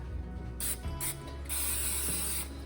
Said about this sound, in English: I'm gonna go ahead and spray it with some non-stick spray just to be safe.